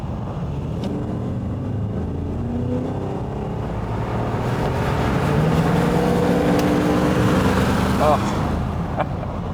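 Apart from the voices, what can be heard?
Aston Martin V8 engine revving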